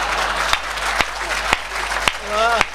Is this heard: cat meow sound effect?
no